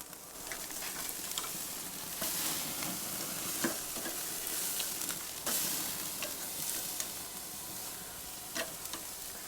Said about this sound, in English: as the meat sears and caramelizes, it actually shrinks a tiny bit and pulls itself away from the grill